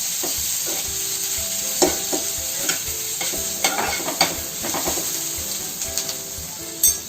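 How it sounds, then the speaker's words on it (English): Onions frying in a pan for a village-style beef curry, a steady loud sizzle with scattered clinks and scrapes of a spoon stirring throughout. "So the onions are half fried here."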